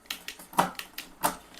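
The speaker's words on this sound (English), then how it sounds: "Let's see if they've got that derailleur set properly." A derailleur on a Hovsco Hovbeta folding eBike clicks through the gears, a quick series of six or seven close, sharp ticks and clacks in a fairly even rhythm.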